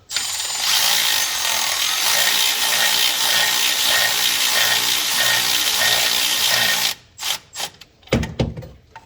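Bolts on a rebuilt GTP38 turbo on a Super Duty are run down with a power tool in a long loud continuous whir, then stop and give way to a few short clicks and taps.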